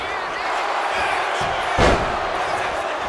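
A wrestling arena crowd roars at a King of the Ring event, a sustained wash of cheering with a sharp slam-like thud and a brief swell in the middle, commentary voices running over it.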